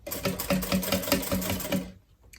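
Sewing machine stitching the lining of a tote bag, a fast, steady mechanical whirring rattle close by that stops abruptly near the end.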